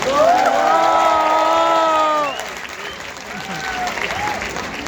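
A dense burst of crowd applause with cheering and whistles, loud and sustained, then fading to murmuring and a few scattered voices.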